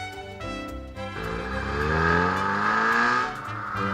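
A Nissan car is driven at speed on the Nürburgring circuit in Germany while its suspension is evaluated, its engine note rising and sweeping upward steadily as it accelerates, loud and close throughout with no talking.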